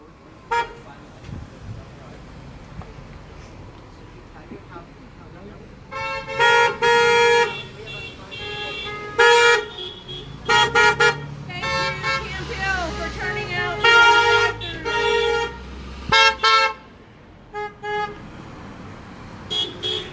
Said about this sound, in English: So yeah, pretty good procession of cars here.